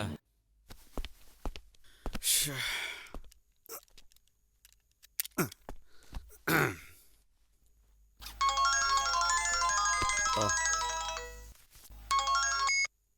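A phone ringtone in a Tamil film scene, a bright electronic melody that plays loudly and steadily for several seconds after rustling and breathy movement sounds, then cuts off briefly and resumes.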